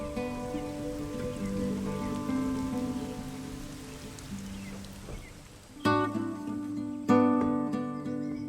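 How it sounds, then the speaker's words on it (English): Steady rain falling in an animated children's story, a soft, even patter running beneath gentle sustained music, with a couple of sharper hits near the end. "And his friend the rain is never truly far away."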